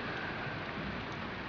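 Steady rain falling on a rainy day in Uganda, a dense, even hiss with no breaks and no voices.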